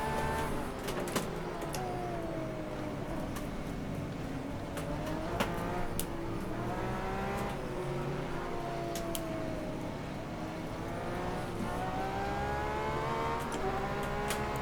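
Porsche 911 RSR GTE race car in rFactor 2 at Sebring, its engine droning steadily and sweeping through rising and falling pitches across gear changes, loud and continuous throughout with no talk.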